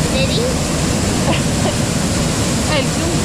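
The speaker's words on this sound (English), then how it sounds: "a swimming place, with a huge waterfall" A huge waterfall at a swimming spot in the El Yunque rainforest gives a steady, loud, broad roar that fills the whole stretch, with faint voices barely audible beneath it.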